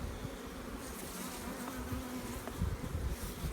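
Honey bees buzz densely around an open beehive during a hive inspection, a steady close swarm drone with no voices.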